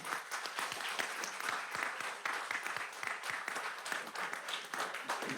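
Audience at a city council meeting applauding artists, a continuous crisp patter of many hands clapping, fairly faint and distant, holding steady throughout.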